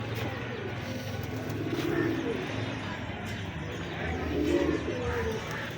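A Lakha breed pigeon coos in low, soft, throaty rolls, close by, with other birds chirping faintly in the background and some outdoor murmur.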